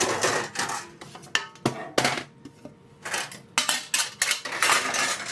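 Metal baking trays clatter and bang in a kitchen, with a burst of loud, irregular metallic clanks and scrapes close by and brief pauses between handlings.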